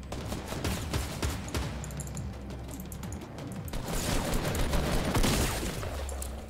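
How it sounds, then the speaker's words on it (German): Gunfire from the Fortnite battle royale video game, a dense, steady clatter of rapid shots running throughout with constant game noise underneath, loud and close with no talking. "Irgendwer will mich wieder wegschießen."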